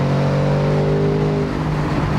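A 2024 Ford Mustang's exhaust drones loud and steady under acceleration, a deep continuous engine note close by with a rising tone, no talking.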